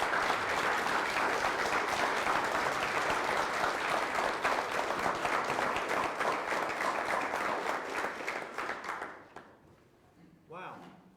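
Audience at an EMS conference applauding, dense sustained clapping for about nine seconds before it drops off abruptly, followed by a brief voice.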